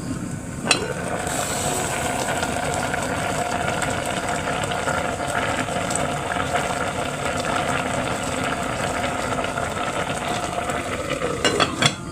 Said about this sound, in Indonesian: Kita numis sawi. Bawang merah, bawang putih.